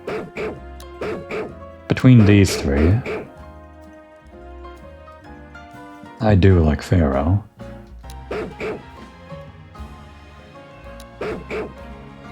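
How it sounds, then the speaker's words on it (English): Pokémon barking in the video game Pokémon Legends: Z-A, two loud bursts of yipping barks standing out over quiet game background, with a person talking at intervals. "Gonna hear a lot of barking."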